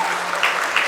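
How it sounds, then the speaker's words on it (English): Debate audience applauding a student speaker at a session on the Naga political movement, a short, even burst of many hands clapping together, fairly loud and close, with no talk. "Can we all give a round of applause for him for the session?"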